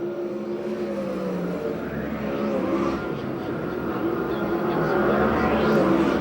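USAC/CRA sprint cars racing on the dirt track at Perris, California, a steady loud roar of several engines with rising and falling revs as cars pass one another, continuous throughout.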